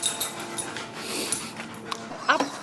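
Two dogs, Luna and Dusty, play-fight up close with panting, whimpers and short yips over scuffling, in quick irregular bursts.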